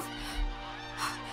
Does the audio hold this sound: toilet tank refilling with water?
no